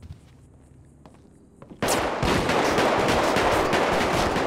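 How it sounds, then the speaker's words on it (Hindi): In the video game GTA V, gunfire erupts outside: after a quiet stretch a sudden loud, dense volley of rapid shots breaks out and keeps going. "ये बाहर से गोली चलने लगी"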